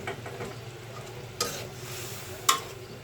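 Raw tomatoes frying in hot oil for a tengra fish curry, with a steady soft sizzle and a few sharp scraping stirs of the spoon in the pan, close and fairly quiet, no talk.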